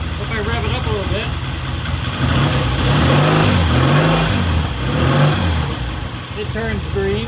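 Vintage British motorcycle engine rising from idle into a few rhythmic revs, loud and close, with falling and rising pitch sweeps, while someone talks over it.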